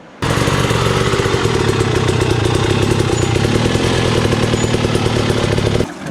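Rusi motorcycle engines rev and run loud and close on an enduro ride from San Nicolas to Itogon, a continuous throaty drone that starts abruptly and holds steady before dropping off at the end.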